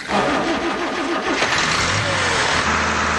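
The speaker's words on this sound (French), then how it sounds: "voilà la machine qui pétarade à tout va." An engine running on a water mixture starts up and runs roughly, a loud, rattling chug with broadband noise, backfiring and settling into an uneven idle close by.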